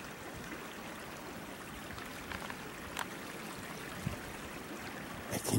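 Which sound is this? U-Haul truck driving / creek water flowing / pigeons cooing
creek water flowing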